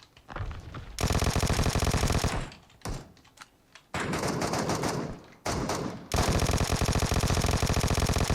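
Vector submachine gun firing in PUBG Mobile on the Erangel map, loud rapid automatic bursts in several long strings separated by short pauses, up close with no talk.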